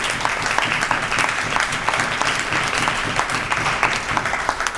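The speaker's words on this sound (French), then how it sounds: "Je pensais que les applaudissements allaient être plus que ça." Audience applause at the opening day of a women's event in Kinshasa, a continuous dense clatter of many hands with distinct sharp claps, fairly distant and even in level.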